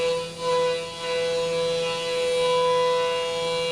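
A Haas Mini Mill 2 CNC spindle runs at 10,000 RPM while feeding at 200 inches per minute, giving a loud, steady machining whine with several sustained tones held for the whole stretch and no talk over it.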